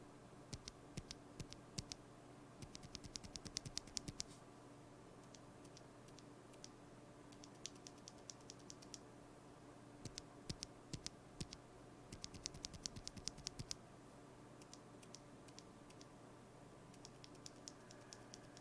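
Quiet, close-up typing on a keyboard fitted with lubed and filmed Alpaca v2 switches from the October 2020 molds, with clusters of clicky keystrokes broken by short pauses and no talk.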